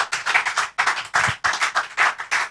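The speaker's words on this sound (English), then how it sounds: "If you are blessed, can you clap better for Jesus?" A church congregation claps in bursts of dense hand claps, loud and close, the applause swelling and dipping in several waves without talk.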